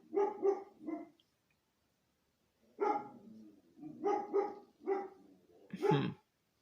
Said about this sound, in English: I wonder where that dog is barking.